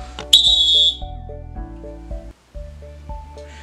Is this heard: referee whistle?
yes